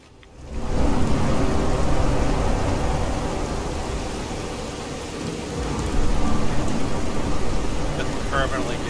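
Heavy rain and rolling thunder from a radiation storm in the Fallout 4 video game rise after a quiet start into a dense, loud downpour, with a second swell of rumbling thunder partway through.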